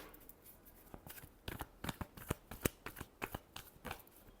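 Tarot cards are shuffled by hand in a series of quick crisp riffling snaps and flutters, close and fairly quiet, with no talking.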